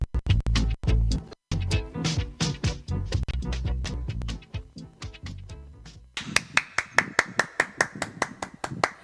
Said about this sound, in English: Round of applause to you, Anthony Brightly